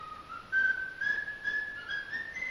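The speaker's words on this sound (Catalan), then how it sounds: "ha après a xiular amb un gran estil l'himne del Barça" A clear, continuous whistled melody of the FC Barcelona anthem runs throughout, with steady sliding notes and no talking.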